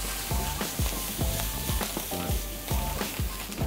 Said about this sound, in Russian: жарим